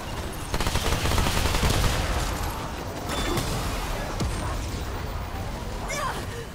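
Gunfire from the video game Remnant 2, a dense continuous rattle of rapid shots throughout, fairly loud with a busy game soundscape behind it and no talk.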